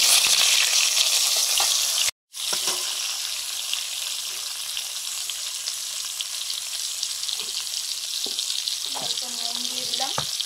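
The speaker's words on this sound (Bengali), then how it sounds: "আলুগুলো ভেজে নিচ্ছি।" New potatoes fry in a pan for a crab curry, a constant loud sizzle broken by a brief dropout, with light stirring and a voice speaking near the end.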